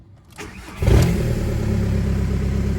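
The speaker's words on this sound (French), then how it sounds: "Ok, ça démarre, c'est carré." A SEAT Ibiza engine is started with the key: a brief starter whir, then the engine catches with a loud burst and settles into a steady, close idle.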